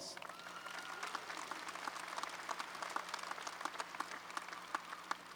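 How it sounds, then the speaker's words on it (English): An audience at a University of Massachusetts Boston commencement applauds, a soft, fairly distant wash of many hands clapping steadily for several seconds. "Give him a round of applause."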